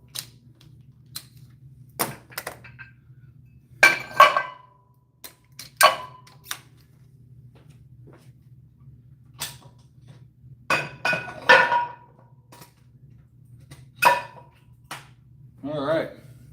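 Weight plates clinking and clanking as a lifter handles them at the gym, a string of sharp metallic knocks scattered irregularly over quiet background hum.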